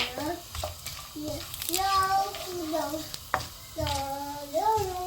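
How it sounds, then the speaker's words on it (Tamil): Fennel seeds sautéing in oil for a mutton intestine curry, a soft sizzle with stirring knocks underneath, largely covered by a woman's steady, close speaking voice. "அதுக்கப்புறம் பெருஞ்சீரகம் நல்லா வதங்கட்டுக்கும்"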